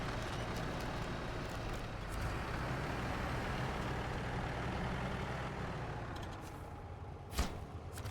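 Truck engine rumbling steadily as it crawls off-road with all-wheel drive engaged in the driving game SnowRunner, a deep continuous drone at close range, easing slightly near the end with a brief clunk.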